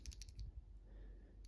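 A Kailh Clione Limacina keyboard switch, mounted in a transparent FL eSports Q75 keyboard, is pressed several times in quick succession, giving soft clicks close up in a quiet room.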